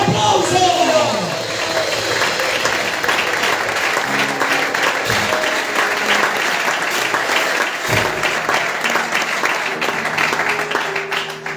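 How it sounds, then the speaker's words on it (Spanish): Youth church convention audience bursting into loud, sustained applause with some cheering and whoops, a dense crowd roar close and continuous throughout, with a voice briefly audible near the start. "¡Dale un fuerte aplauso!"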